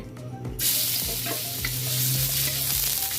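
Garlic frying in a little oil for Indian-style vegetarian mee goreng, a loud steady sizzle that bursts in after a brief quiet start, with occasional stirring scrapes, close and without talk.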